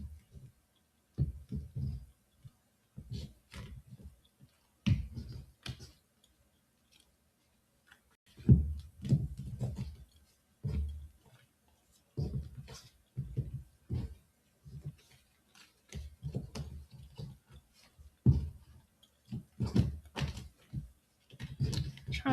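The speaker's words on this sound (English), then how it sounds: "I'm gonna do another shuffle." Irregular bursts of soft tarot card shuffling and riffling, close by, with short pauses between rounds.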